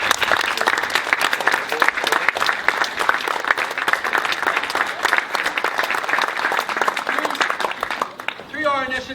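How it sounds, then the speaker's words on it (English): A roomful of people gives a steady round of applause for participants at a mental health sports event, loud and dense for about eight seconds before fading as a voice starts speaking. "Everybody wants to give them a round of applause."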